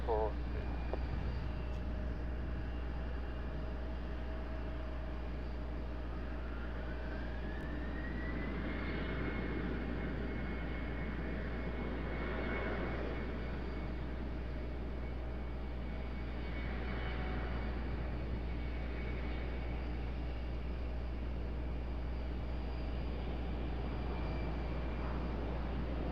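A JetBlue jet airliner takes off from runway 5 left, a distant, steady engine roar with a slowly rising whine that holds beneath a constant low hum for the whole stretch.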